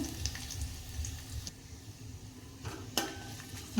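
Curry leaves and a chili fry in hot oil over reddened cumin and mustard seeds, tempering for spiced buttermilk; a steady low sizzle runs throughout with a few sharp clinks of a utensil against the pan.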